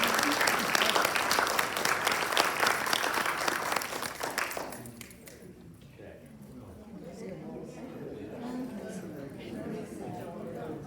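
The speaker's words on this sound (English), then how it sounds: "Let's give a final round of applause to the Rabbi" An audience applauds a rabbi at the close of a lecture, with full, dense clapping that fades out midway and gives way to indistinct talk and room murmur.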